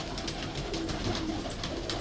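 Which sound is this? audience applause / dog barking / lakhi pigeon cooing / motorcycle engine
lakhi pigeon cooing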